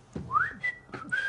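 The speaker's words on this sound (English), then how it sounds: "You were whistling after you'd had your go" A man whistles aimlessly with no tune, a few short rising and sliding notes in separate bursts, close and fairly quiet, with no talking.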